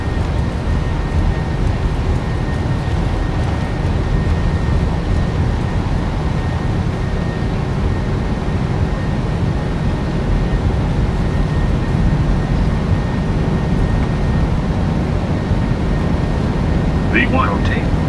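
A Boeing 737-9 in Lion Air livery rolls down the runway in Microsoft Flight Simulator 2024, its jet engines giving a steady, loud, broadband roar throughout with no break, and a brief chirp near the end.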